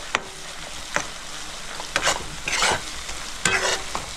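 Ginger, garlic and chili paste stir-fried in a pan for a fish tel jhal, with a steady sizzle broken by several sharp scrapes and clatters of a spoon against the pan, close and fairly loud, no talking.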